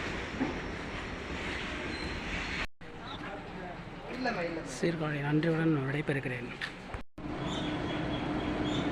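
A train at the Sirkazhi railway station platform rumbles steadily in the background while a person talks over it, with a couple of brief breaks in the sound.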